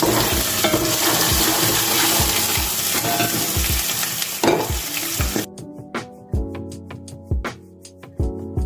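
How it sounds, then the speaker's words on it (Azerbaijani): Salt, garlic and pepper being stirred into a meatless soup in a pot: a steady, close scraping and bubbling churn that drops away midway, leaving sparse clinks over soft background music. "Duz, sarımsaq və istiyotu əlavə edib qarışdırıram"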